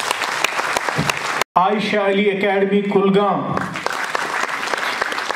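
Applause fills the hall at an awards ceremony at Tagore Hall in Srinagar, a sustained crowd clapping under a loud announcer's voice, with a brief tonal musical sting partway through.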